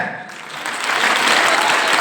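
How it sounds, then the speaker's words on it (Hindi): An audience at a DXN business meeting held at Sambodhi resort bursts into applause. The applause starts moderately and builds into loud, dense clapping, and a voice can be heard faintly underneath. "ऐसा ताली बजाइए कि सब यहीं देखे जाएं।"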